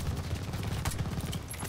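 A gun fires in rapid bursts in Call of Duty Vanguard, a quick loud run of shots with a low thumping rhythm, close up, with no talking.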